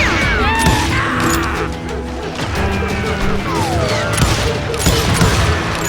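Dense gunfire from Call of Juarez: Gunslinger, volleys of shots and crashing impacts filling the scene loudly and continuously, with brief shouted voices mixed in.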